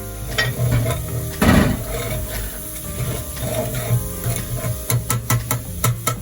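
Egusi being stirred and fried in a pot, with crayfish added: close, steady scraping stirring strokes over a soft sizzle, with a run of sharp clicks toward the end.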